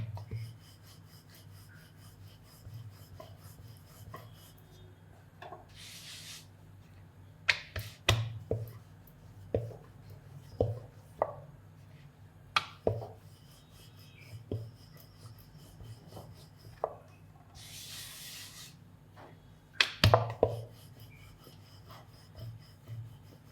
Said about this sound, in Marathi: पातळ लाटून घ्यायचे.